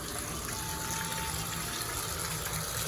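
Rushing water pours steadily into a warm bath, a dense, continuous gush filling the tub at close range with no break or voices.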